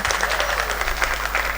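An audience applauds steadily, a dense, even patter of many clapping hands holding at a constant level throughout.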